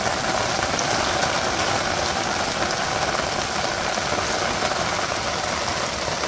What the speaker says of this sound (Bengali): দেখছেন বৃষ্টিটা কত সুন্দর করে পড়বানছে জলের মধ্যে, টিপ টিপ টিপ টিপ করে।